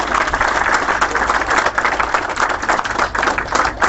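Audience applause at a graduation ceremony for Somali students in London: a dense, steady wash of many hands clapping, sustained at an even level from start to finish.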